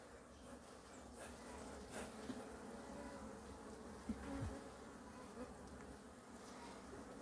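Honey bees swarm around hive frames at a farm apiary, making a steady, fairly quiet buzzing drone throughout, with a few soft knocks mixed in.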